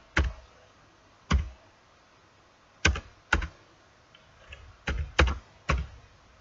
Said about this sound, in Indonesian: Kita ketikkan di sini